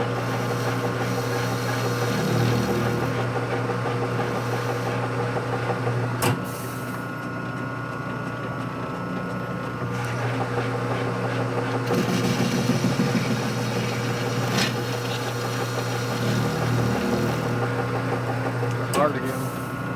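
A lathe with a worn carbide tip cuts a chamfer on a part for a 1947 Harley-Davidson EL Knucklehead 74ci engine during a case-welding rebuild. A steady, close machine whir runs throughout with a few sharp ticks, and someone talks over it.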